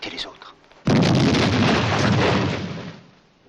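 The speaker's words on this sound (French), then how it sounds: "Cette explosion, c'est une de nos mines." A landmine detonates in a desert battle at El Alamein, a sudden loud blast that swells into a long roaring rumble lasting a couple of seconds before fading, following faint voices.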